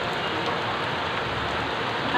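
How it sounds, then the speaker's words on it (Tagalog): Steady rain falls on the garden outside the Aguinaldo Shrine museum as an even, dense hiss that continues unbroken, with no voices. "Biglang umulan. Kaninang init, biglang umulan."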